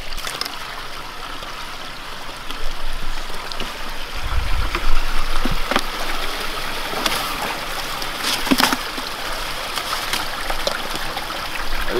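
Water trickles and gurgles steadily nearby as it flows under winter pond ice, with occasional sharp clicks and knocks cutting through the flow.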